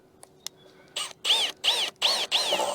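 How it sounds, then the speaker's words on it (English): A power driver whines in short bursts, sending screws into wooden deck railing braces outdoors: a couple of faint clicks, then four rising-and-falling whirs in quick succession, close and fairly loud. "just use some screws and screw in these braces like that"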